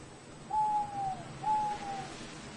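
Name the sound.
owl hooting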